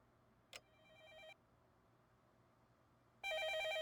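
Electronic telephone ring from the Fate/Stay Night visual novel, heard as short trilling bursts: a brief ring near the start, a longer one, a pause, then a louder ring at the end over quiet hum.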